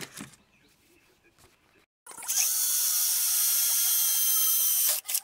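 Power drill boring into small wooden wheel pieces for a decorative garden wheelbarrow, a steady loud whine running about three seconds after a quiet stretch and a brief pause.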